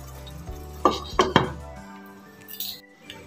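Metal lid set down onto a cooking pan of vegetarian paneer navratan korma, giving a few close clanks and clinks in quick succession before a brief ringing fade, no talking.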